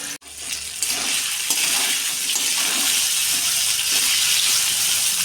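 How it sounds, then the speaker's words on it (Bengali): Cauliflower florets dropped into hot oil in a wok, bursting into a loud, continuous hissing sizzle right after a sharp initial splash, steady and close throughout. "তেলটা ভালো করে গরম হয়ে গেছে, এবার আমি ফুলকপিগুলো দিয়ে দিব।"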